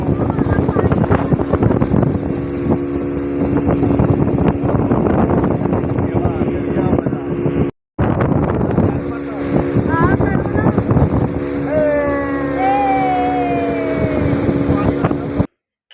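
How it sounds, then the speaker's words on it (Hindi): Steady wind roars against the microphone during a boat ride on Tehri Lake, with a motorboat engine droning underneath, and people talking over the continuous rush. "हवा चल रही है अब बढ़िया।"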